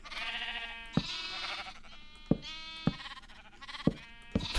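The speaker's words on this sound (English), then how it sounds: "one of the easiest ways to get sheep in here is to build something like this" Minecraft sheep bleat in a simple in-game farm build, several wavering bleats repeating about every second or so, fairly loud and clear with no talking over them.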